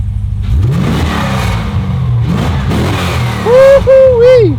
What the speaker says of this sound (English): let's hear what a 69 Camaro with an LS3 motor sounds like